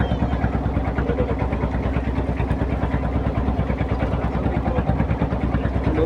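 A motorboat engine runs steadily as the boat sets off across a large beel (wetland lake), its even, rapid low throb droning continuously and fairly loud close by, with no talk.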